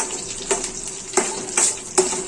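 Cashews frying in oil in a pan with green chillies for mango rice on a medium flame, a soft continuous sizzle broken by a few sharp scraping stirs of the spoon.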